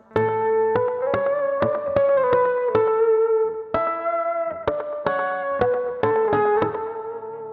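Electric guitar with effects and distortion plays a melodic line built from ringing harmonic notes, plucked one by one in an uneven rhythm, close and fairly loud, with no voices.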